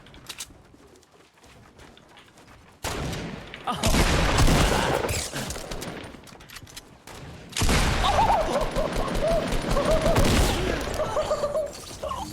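Rapid bursts of gunfire in the video game Fortnite, loud and sustained in two long volleys separated by a quieter stretch, with a faint voice in the background.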